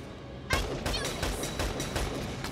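Gunshots in the video game Valkyria Chronicles 4, a sharp onset followed by a rapid string of shots over about two seconds, loud and close amid battle noise.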